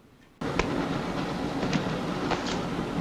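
A train running on its tracks in a horror film set aboard a rail carriage, starting abruptly after a quiet moment, then a steady close rumble with periodic clickety-clack wheel beats over the rails.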